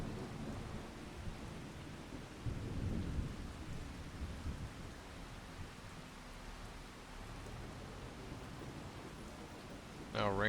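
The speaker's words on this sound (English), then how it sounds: "now raining, so we can't do harvesting contracts" Rumbling thunder and steady rain of a thunderstorm in the Farming Simulator 25 video game, a continuous broadband wash with low rolls of thunder throughout and a brief tonal sound at the very end.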